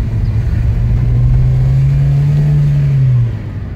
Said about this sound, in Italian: Sentite il motore.